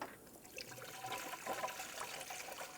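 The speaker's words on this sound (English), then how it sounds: "I'm just going to put a funnel in here, that way I don't spill everywhere, and fill it with the manufacturer's recommended coolant." Coolant poured through a funnel into the cooling system of a 2012-2020 Ford Focus during a water pump replacement, a steady soft liquid gurgle and trickle close by without talk.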